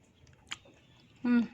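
Close chewing of crispy battered fried onion from a home-cooked Indonesian side dish, with a soft bite and a short, crunchy squelch of mastication near the mic. A brief voiced sound comes in at the end.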